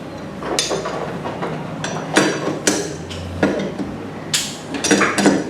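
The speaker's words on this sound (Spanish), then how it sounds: "la primera etapa es levemente apretar los pernos" T-handle wrench lightly snugging motorcycle crankcase bolts during engine assembly, giving repeated sharp metallic clicks and clinks in irregular bursts, close and fairly loud, with no voices.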